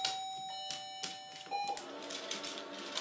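An indoor doorbell, used in hearing-dog training, rings with a bright electronic chime and sustained tones, joined by a few light clicks and taps. It is faint but clear.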